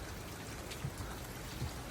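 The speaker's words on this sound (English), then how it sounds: "It's pouring rain." Heavy rain pours steadily outside an RV, a dense, even hiss of falling drops that carries on without a break at low volume.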